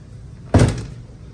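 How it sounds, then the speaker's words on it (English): A car door shuts with one solid thunk, followed by a brief loose rattle from something inside the door panel, near and alone. "except when I shut the door, which you heard something in there falling."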